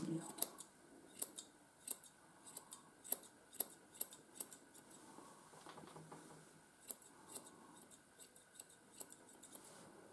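Eight-inch grooming scissors snip through a Miniature Schnauzer's leg hair in a quick series of crisp, close cuts, irregularly spaced and alone over quiet room tone.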